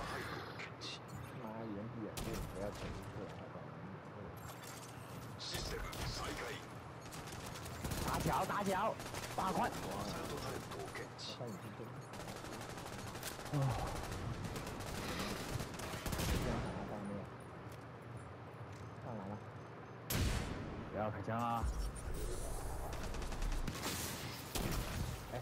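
Gunfire in the video game Tom Clancy's The Division 2: rapid bursts of shots and fusillades recur throughout a busy firefight, mixed with game effects while people talk over it.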